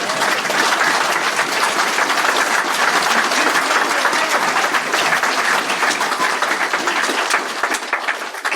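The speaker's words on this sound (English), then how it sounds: "Can we have a big round of applause?" Loud, sustained clapping from a conference keynote audience, dense and even throughout before thinning slightly at the very end.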